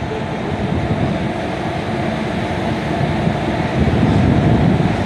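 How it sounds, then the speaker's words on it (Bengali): Loud, steady low rumble and hum inside a train car standing at a station between Belur and Howrah, with faint rattling, growing slightly heavier toward the end. "বেলুর থেকে ফিরছি হাওড়া যাব ট্রেনটা আমাদের দাঁড়িয়ে গেছে"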